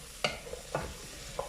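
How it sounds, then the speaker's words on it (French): Chorizo and onions fry in olive oil in a pan, a soft steady sizzle broken by a few short stirring scrapes, close and quiet with no voices. "les oignons avec les chorizo reviennent rapidement à l'huile d'olive"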